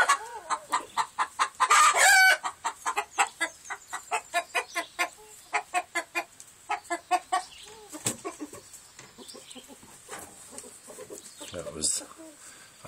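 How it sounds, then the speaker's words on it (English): A hen in a coop, separated from the rooster, clucks rapidly in a long agitated series, loud and close, with a sharp squawk early on and slower clucks toward the end. "Hen getting upset because I had isolated her from the rooster."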